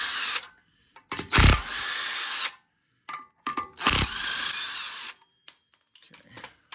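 Power tool loosening lug nuts on an E46 BMW, fitted with C63 calipers: several loud, close bursts of rattling mechanical whirring separated by silence, with small clanks and handling noises between them.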